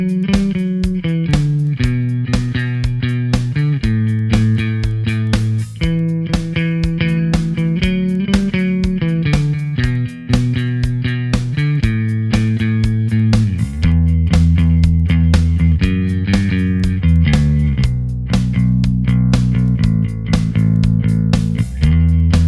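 An electric bass guitar played through an HX Stomp with a Trace Elliot style amp tone plays a melodic line of distinct plucked notes, round and punchy, alone and up front with steady rhythmic phrasing.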